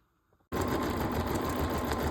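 Bernina embroidery sewing machine with a mega hoop starting to stitch out a pillow cover design, kicking in abruptly after near-silence and running as a loud, steady, rapid mechanical whir at close range.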